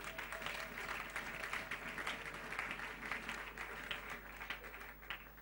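A church congregation at a French-language service applauds steadily, a dense, even wash of clapping from many hands, fairly distant and without talk over it.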